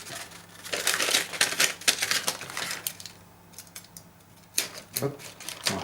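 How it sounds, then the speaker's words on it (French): Crackly, ripping tearing of adhesive tape being pulled away from a mould in several quick strips, close and fairly loud, with brief pauses. "Maintenant, on retire les scotch."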